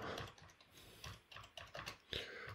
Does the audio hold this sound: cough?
no